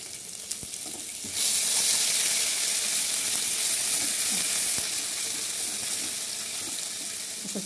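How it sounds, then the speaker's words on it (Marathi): Garlic ginger paste hits hot oil already crackling with cumin and mustard seeds in a pan, setting off a sudden, strong, steady sizzle. Occasional stirring clicks sound over the frying, and there is no talk. "अशा प्रकारे चांगलं भाजून घ्यायचं।"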